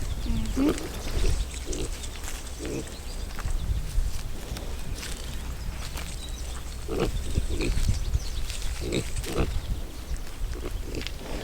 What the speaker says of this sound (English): Those would make some good looking show pigs.